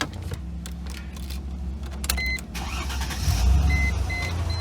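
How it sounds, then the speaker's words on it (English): A Mercedes W163 ML's engine cranks and catches midway, settling into a steady low idle, with some clicks and faint chimes beforehand; no one speaks. "I'm going to start the car,"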